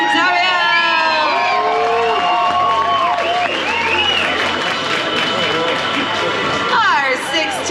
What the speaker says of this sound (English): Let's give a big round of applause for Ledem Dariel.